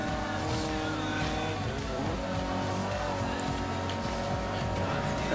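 Video game car racing in Forza Horizon: engines roar continuously at high revs with tires squealing and skidding, a dense racing soundscape with a voice faintly underneath.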